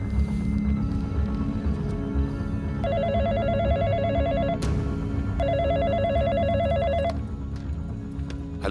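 A telephone rings in two distinct trilling bursts of about two seconds each, heard clearly over a low, steady background.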